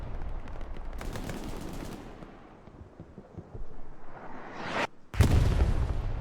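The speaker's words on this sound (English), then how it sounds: "I'm assuming that is the LEP artillery falling on the back of the point." Artillery shells falling and exploding in Hell Let Loose, with a rattle of gunfire and several heavy, nearby blasts, the last blast coming after a sudden brief dropout and followed by deep rumbling impacts.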